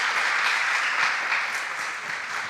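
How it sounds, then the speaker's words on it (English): An audience at a school quiz competition gives the contestants a steady round of applause. The dense clapping from many hands goes on throughout at moderate volume. "Can we give them a round of applause, please?"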